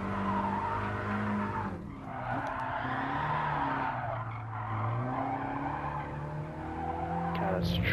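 Tires squeal and skid under a racing engine as a car understeers through a corner in Gran Turismo Sport, the screech rising and bending in pitch over a steady engine drone, with no talk.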